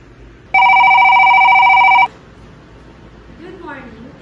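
A hotel room telephone gives one loud, steady electronic ring burst lasting about a second and a half, then stops; a brief voice follows faintly afterward.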